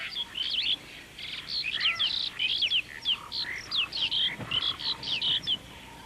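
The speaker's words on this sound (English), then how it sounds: "perhaps a beauty like the red-headed parakeet will appear" Red-headed parakeets in an Asiatic lion forest give a long run of sharp, shrill chirps and squawks in quick bursts, fairly close and clear against quiet background.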